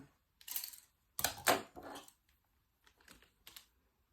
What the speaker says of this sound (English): So I'm just going to give this a little snip snip.